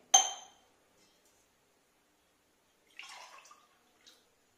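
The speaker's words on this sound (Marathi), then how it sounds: "दीड ग्लास पाणी आता आपण याच्यात घेतलेलं आहे." About one and a half glasses of water go into a metal kadhai with a rack set inside: a sharp metallic clink first, then after a pause a short splashing pour and a faint final drip, close and quiet.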